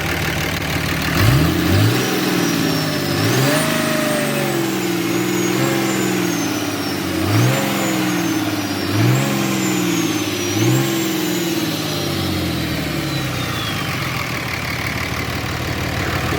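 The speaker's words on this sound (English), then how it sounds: "Let's hear how the turbo sounds." An armoured Dodge Ram 2500 diesel pickup with a turbo revs repeatedly, each loud blip of the engine followed by a rising turbo whistle that fades slowly, heard up close and alone.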